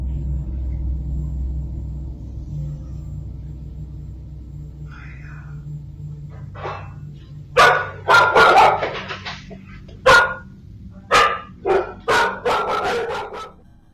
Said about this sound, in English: The next moment, the dog suddenly started barking